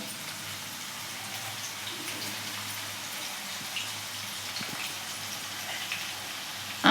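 Bitter gourd pieces fry in hot oil, giving a faint, steady hiss and sizzle throughout with no talking.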